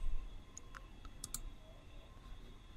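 Several sharp, separate mouse clicks at a computer while saving a bug status in Azure DevOps bug-tracking software, quiet and close against faint room hiss with no talking.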